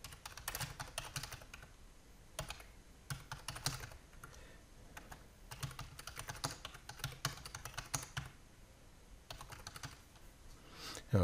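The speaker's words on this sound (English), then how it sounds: "let me just go ahead and just type in" Fingers type steadily on a computer keyboard, with quiet, continuous key clatter that comes in short runs and brief pauses, heard alone without talk.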